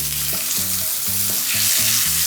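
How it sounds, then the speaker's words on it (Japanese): Roast beef searing in a pan over medium heat, a steady loud sizzle with bursts of crackling and brief stirring or scraping knocks, close up and with no talking. "さあ中火ぐらいで表面を焼いていきます"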